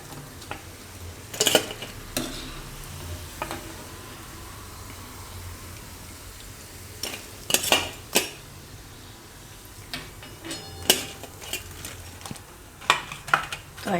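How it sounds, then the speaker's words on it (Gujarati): Pakoras frying in hot oil for a Gujarati farali kadhi pakoda dish, with scattered clinks and scrapes of a utensil stirring and handling the pan over a faint steady background, the clatter clustering in bursts. "આમાં પકોડા તરી લીધા છે"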